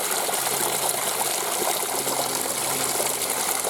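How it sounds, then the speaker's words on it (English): A forest stream flows steadily among old walls, a dense, even rush of water that stays constant and fairly close with no voices. "water sounds"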